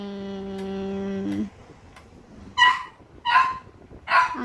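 A dog whines in a long tonal cry, then gives three sharp, loud barks at an even pace, heard fairly close in a quiet indoor room.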